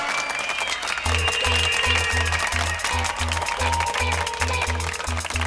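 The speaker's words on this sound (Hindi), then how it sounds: "जूलियन और फर्नांडो के लिए जोरदार तालियां।" An audience claps for a stunt duo at a televised challenge show, a broad wash of applause running under loud, pounding rhythmic music.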